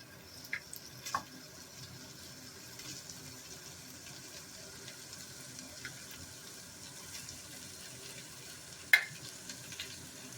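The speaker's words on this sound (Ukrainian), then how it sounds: "Часник, імбир і гострий перець обсмажуються" Quiet, steady frying of garlic, ginger and hot pepper with a soft crackle, a few louder clicks and clatters of utensils now and then, no voices.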